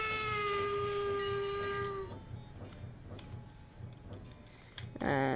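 Locomotive in the Traincraft mod for a video game pulling forward after its brake is released, a sustained multi-tone whistle sounding for about two seconds over a rhythmic clattering chug, which continues alone before a sharp, loud burst at the end.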